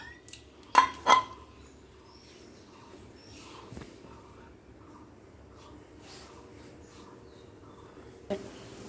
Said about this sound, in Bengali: এবার এগুলোকে আমরা একটা বাটিতে তুলে নেব।